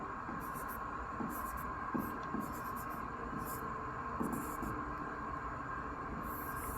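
Chalk writes on a classroom board in short scratchy bursts across a steady hum, with light tapping strokes between the letters and no talking.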